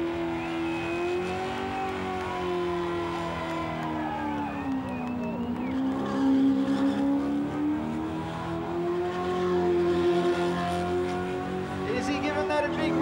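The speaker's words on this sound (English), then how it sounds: "Is he giving that a big rev or what?" A race car engine revs hard and continuously during a burnout elimination at Summernats 18, a loud sustained roar that rises and falls in pitch, with crowd commentary mixed in.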